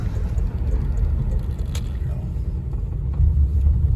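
Low, uneven engine rumble inside a poorly running Plymouth Gran Fury on a test drive, a continuous drone that swells slightly near the end, with no clear talking.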